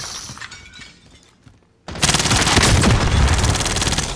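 Video game gunfire bursts out after a quiet stretch, a dense rapid volley of loud automatic shots with crackling impacts that continues to the end, close and overwhelming.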